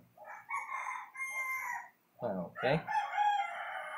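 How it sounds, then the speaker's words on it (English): A rooster crows in Age of Wonders 3 gameplay, two drawn-out calls and then a longer crow after a short pause, heard clearly with a brief spoken word nearby. "I heard some chicken."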